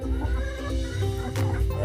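Free-range village hens clucking and murmuring in a low, steady flock chatter, close by, with a brief brighter call near the end.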